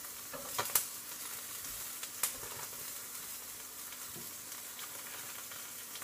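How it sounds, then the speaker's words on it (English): Food sizzling in a hot pan after the flame has died down, a steady faint frying hiss with a few brief louder crackles and no talk. "it's still going, not the flame, but the sizzle shit"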